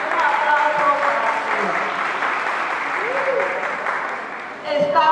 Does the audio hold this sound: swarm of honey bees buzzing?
no